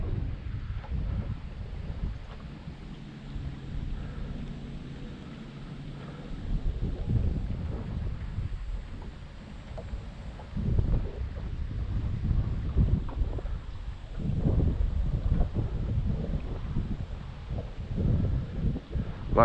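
Steady wind buffets the microphone on a 2002 Tracker V18 Tournament Edition bass boat out on the water, a continuous low rumbling roar that surges and gusts, with faint water sounds beneath and no talking.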